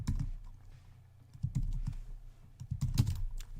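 A computer keyboard being typed on while writing Dart code, with close, irregular key clicks and small clusters of taps and no talking.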